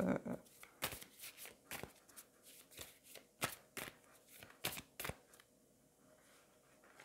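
Tarot cards are shuffled and drawn by hand, close and fairly quiet, with a run of sharp riffling snaps and slaps at irregular intervals that thin out toward the end over a soft room background.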